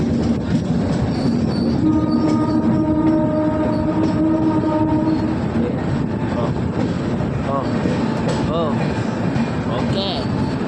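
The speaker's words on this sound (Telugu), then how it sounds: "హాకింగ్ బాగుంది, సౌండ్ బాగుంది, స్పీడ్ కూడా బాగుంది." A Visakhapatnam–Tirupati superfast express runs near Anakapalli station with a steady rumble and clatter of wheels. A sustained horn sounds loudly for several seconds, and voices can be heard talking over the noise.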